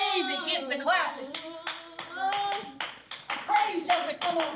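Hand clapping at a stage performance, sharp and rhythmic, sounding in repeated bursts over a performer's animated spoken delivery that runs through the whole passage.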